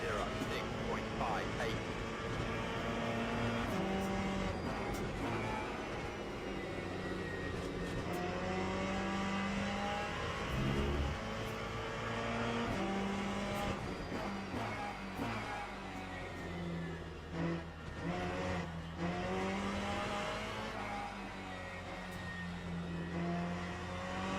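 A race car in a racing video game, engine droning and shifting pitch steadily with a loose rear end, under continuous talk.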